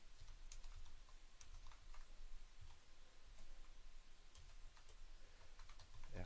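Quiet, steady typing on a computer keyboard as the name of a Herschel 400 star chart is entered, with rapid key clicks coming in small clusters, close and faint.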